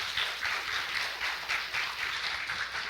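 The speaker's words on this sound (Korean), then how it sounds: "여러분 박수 부탁드립니다." A talk show audience claps in a fairly even, pulsing rhythm, a steady wash of applause at moderate distance with no speech over it.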